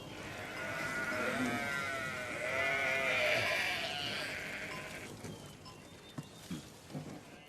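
A flock of sheep grazing in a pasture, bleating loudly in overlapping, wavering calls for about five seconds before fading to quieter ambient rustling, with a few soft thuds near the end.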